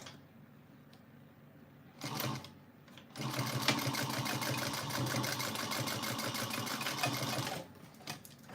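Sewing machine stitching a small Araki box bag at 3/8 inch seam: a short burst, a pause, then a long, fast, steady run of needle clatter up close before stopping.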